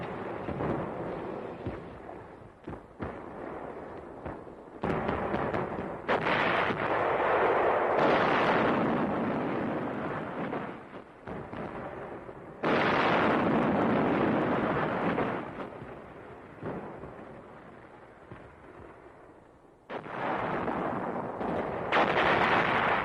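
Korean War artillery barrage: heavy guns fire in repeated loud booming bursts with rumbling tails, some blasts overlapping into sustained roaring stretches, separated by short lulls, with no voices.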